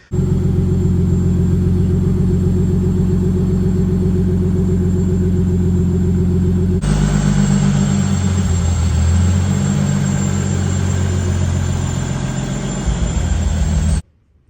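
A Toyota Supra's 2JZ engine fires up and settles into a steady, loud idle, its low rumble continuous and close with a brief shift in tone partway through; no one speaks.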